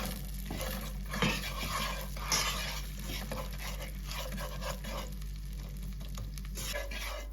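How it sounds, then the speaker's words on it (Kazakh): Sugar is stirred in a pan over low heat as it turns into caramel: soft scraping strokes repeat under a gentle sizzle, close by and with no talking. "Баяу отта осылай қозғай отыра араластыруды ұмытпаңыздар."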